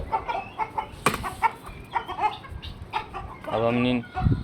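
Chickens cluck and a rooster calls in short bursts, with rustling and a longer squawk near the end as roosters confront each other, close and fairly loud.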